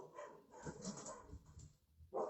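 A pet dog gives a few soft, muffled barks and whimpers from somewhere nearby, faint and brief, with no voices over it.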